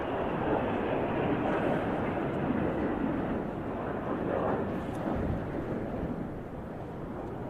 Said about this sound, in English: there go all 6 aircraft splitting apart